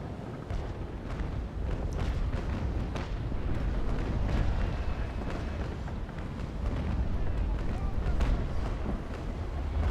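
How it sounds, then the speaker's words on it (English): Cannon broadside fired from a sailing frigate in the Naval Action Legends game, a heavy continuous rumble of booming shots rolling together, with faint crackles and water noise underneath and someone talking over it. "So I might as well use the opportunity for a broadside. And fire."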